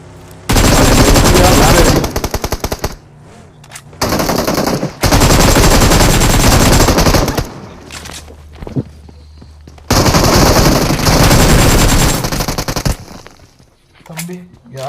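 Loud bursts of automatic gunfire in the mobile battle royale game BGMI, with rapid repeated shots in several long volleys separated by short gaps, close and dominant.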